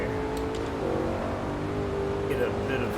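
A car engine drones steadily while driving on roads in the racing video game Forza Horizon 4, a moderate hum with faint pitch shifts, partly beneath background talk.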